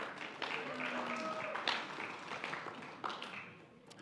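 An audience at a school middle and high school awards ceremony gives a fairly quiet round of applause with scattered claps, and a voice speaks over it.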